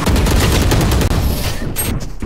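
Rapid, loud automatic gunfire from the tactical shooter Valorant fills the moment with a dense burst of close shots, trailing off near the end.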